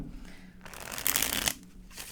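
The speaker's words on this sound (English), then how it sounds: "All right, one more shuffle." Tarot cards riffled and shuffled close by, a soft papery flutter that swells in the middle and then settles, with no one speaking.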